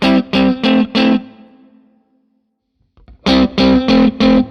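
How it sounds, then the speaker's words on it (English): An electric guitar played through the Two-Rock amp model of an amp plugin strikes four rhythmic chords that ring out and decay into silence, then returns with another four close, loud chords, with no talking. "And then the Two-Rock, similar, more similar to the Dumble."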